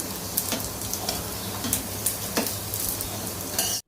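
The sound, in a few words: sago vadas frying in a small pan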